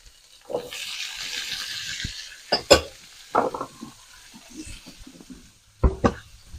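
Carrots and peppers added to a hot pan for chicken cacciatore, a close sizzle rising over the first two seconds, then scattered scrapes and clanks of stirring with brief bursts of frying.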